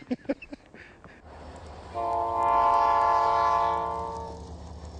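A train travels through a snowstorm in the California mountains, a few knocks followed by a long, loud, sustained horn blast over a low rumble of the passing cars, with no talking.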